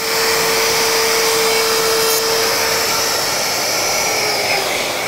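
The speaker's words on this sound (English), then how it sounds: "Auto start, Hoover kicks in, gets rid of the dust." A woodworking shop vacuum auto-starting to extract dust, a loud steady whooshing drone with a high whine running continuously and close by, with no talking.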